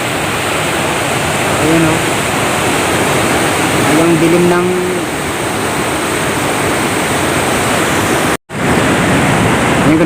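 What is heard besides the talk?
rushing floodwater from heavy rains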